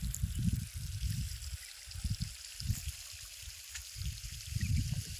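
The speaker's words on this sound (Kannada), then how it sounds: "ಈಗ ಇದಕ್ಕೆ ನೀರು ಬಿಡ್ಲಾಕತ್ತಿದ್ದೇವೆ ರೀ" Irrigation water runs steadily into a field planted with chickpeas, a continuous low gurgling and trickling flow that swells and eases, heard up close outdoors with no voices.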